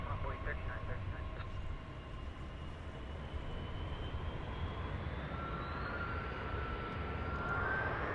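An airliner takes off from runway 18 left at DFW International Airport, a loud steady jet engine roar with a rising whine building over several seconds, heard at a distance and continuous throughout.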